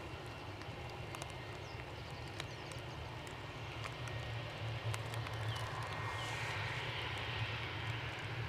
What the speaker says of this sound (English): let's get the inbound aircraft